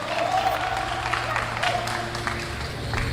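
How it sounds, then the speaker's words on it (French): An audience at a battle rap talent show applauds steadily, a continuous patter of clapping mixed with crowd murmur and voices. "On applaudit plus fort, s'il vous plaît."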